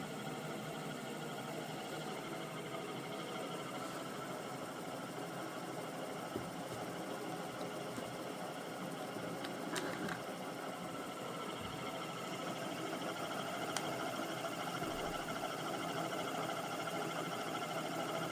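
A homemade pulse motor generator wired in series with a transformer runs at speed, a continuous mechanical whir and hum with faint ticking, steady and fairly quiet throughout.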